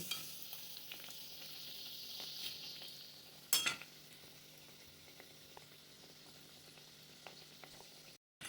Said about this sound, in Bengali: এই হচ্ছে কাটলেট ভাজা একদম মিডিয়াম ফ্লেমে আমি গ্যাসের আঁচটা দিয়ে দিয়েছি